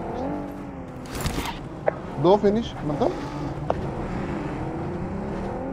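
A vehicle driven in the battle royale game BGMI, its motor humming steadily under excited voices, with a short engine swell and sharp game effects breaking through midway.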